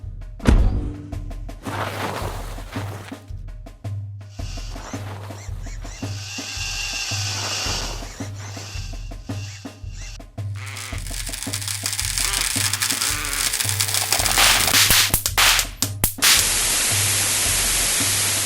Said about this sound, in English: Launching probe.